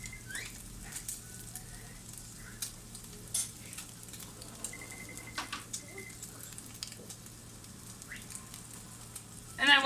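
An omelet sizzling as it cooks in a pan, a faint continuous crackle with scattered light pops and small clinks, a steady low hum underneath.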